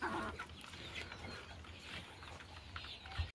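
Golden Misri chickens cluck faintly on a hen farm, soft scattered calls set back within a low, noisy background.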